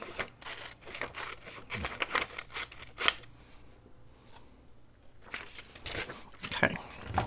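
Scissors roughly trimming out paper craft pieces for a scrapbook cover page: a run of close, crisp snips, a brief quiet pause, then more cutting.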